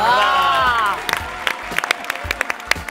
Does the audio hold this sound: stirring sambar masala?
no